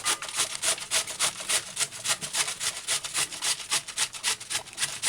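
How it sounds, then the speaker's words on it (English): Red cabbage is shredded finely on a grater in quick, even back-and-forth strokes, a rhythmic raspy scraping heard close up and alone. "Shred red cabbage fine."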